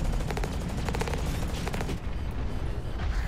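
Weapon fire in the mech combat video game Hawken, loud rapid bursts of automatic shots and impacts repeating steadily throughout, with no talking.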